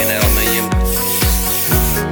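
Spray can hissing in four short, even bursts close by while Chevy 372 engine parts are worked on, with brief pauses between bursts.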